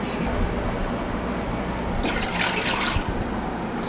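Broth pours into a cooking pot for spicy black bean soup, a splashy liquid stream that swells in the middle of a steady background, with someone talking.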